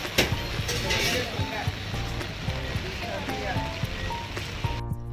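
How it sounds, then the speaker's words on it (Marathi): Steady monsoon rain falls in Mumbai, a dense, continuous hiss of drops on surfaces close by, with occasional sharper splashes and faint voices in the background. "तर आता पाऊस सुरू झालेला"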